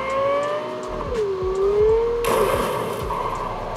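Car driving sounds from the Cyberpunk video game played through laptop speakers: a steady engine hum with a gliding, whining pitch and a sudden burst of noise partway through, heard from a little distance, no talking.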